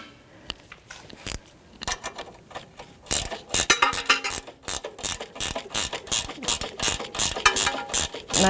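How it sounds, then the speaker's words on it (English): A 15mm ratchet wrench loosens the strut mount nut on a 2007-2017 Jeep Patriot 2.4L, with close, loud bursts of fast ratcheting clicks repeating in quick strokes over several seconds. "Now I'm going to get a ratchet wrench, 15mm."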